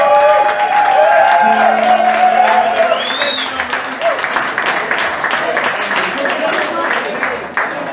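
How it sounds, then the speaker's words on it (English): A bar crowd at a live blues session applauds and cheers for the band's guitarist, loud and close, with lingering guitar tones and shouting voices mixed into the sustained clapping. "Please give applause for Markus"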